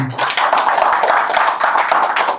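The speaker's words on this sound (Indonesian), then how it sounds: "Boleh kita berikan tepuk tangan dulu kepada Tuhan." A church congregation gives sustained, dense applause, many hands clapping together steadily throughout.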